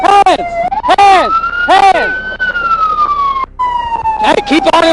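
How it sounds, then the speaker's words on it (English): Police car siren wailing loudly and close during a traffic stop, its rising and falling yelp tones repeating in bursts with a steady wail between, briefly cutting out before resuming, with shouting voices over it. "I'm gonna turn the siren off."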